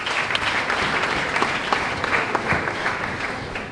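A church congregation applauds, a thick, continuous wash of clapping from many hands, steady and fairly loud throughout.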